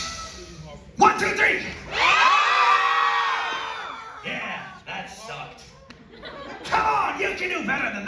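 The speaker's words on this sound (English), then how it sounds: "I need to hear your best horror movie scream." A theater crowd at a Halloween horror event shouts and screams together on cue, loud bursts of many voices rising and fading in two or three waves, with a lone voice talking between them.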